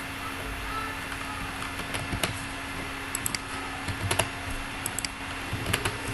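Keys clatter on a computer keyboard as numbers go into an Excel sheet, with scattered close clicks over a steady background hum.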